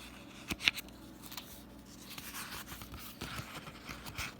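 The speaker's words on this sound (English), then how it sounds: "I am sorry about the page turning." Soft papery rustles and a few crisp flicks, like pages being turned, quiet and close with faint background hiss.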